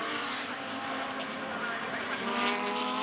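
GT race cars lapping Fuji Speedway in a Blancpain GT Series Asia race, engines roaring steadily and close by with rising and falling harmonic whine, a continuous dense blend of several cars passing.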